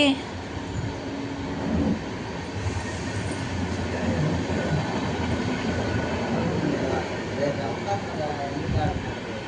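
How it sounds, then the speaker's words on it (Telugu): A train rumbles past with steady rolling wheel noise and rail clatter throughout, fairly close, with faint voices in the background. "ఇంకా ట్రైన్ వచ్చిందని చూడండి"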